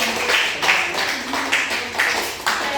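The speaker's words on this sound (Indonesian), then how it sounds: "tepuk tangan dulu buat semuanya" Students in a classroom clap together in a short burst of applause, the claps blending into an even patter with a few louder strikes standing out.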